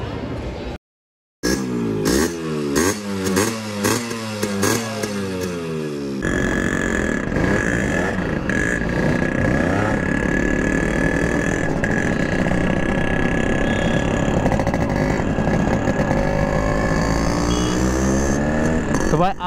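A Yamaha RX100 two-stroke motorcycle on the ride from Bhadagaon toward Aurangabad. The engine note changes pitch early on, then becomes a loud, steady drone with rushing wind across most of the run.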